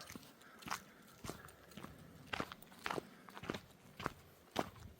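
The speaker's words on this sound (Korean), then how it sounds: "조용한 산길에 내 발자국 소리만 들립니다." Footsteps crunch at a steady walking pace along a quiet, steep mountain trail on the Namparang coastal route near Haenam, each step close and distinct with soft scuffing between them and no voices.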